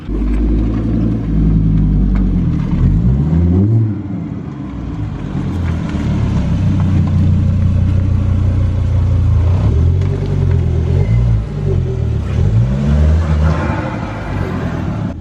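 A Volvo car is driven into a workshop in the Netherlands, its engine giving a loud, steady, close rumble with a few rising revs throughout, and no talking.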